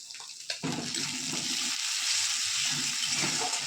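Spiced masala base for a Bengali Tangra fish curry frying in oil, a soft, continuous hiss and sizzle with a brief stir knock near the start, fairly quiet and alone.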